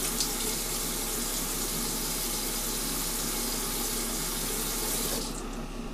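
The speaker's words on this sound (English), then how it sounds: "And then I'm going to wet my face with some" Warm tap water pours steadily into a bathroom sink for several seconds, a close, continuous hiss and splash that stops abruptly near the end, with no talking.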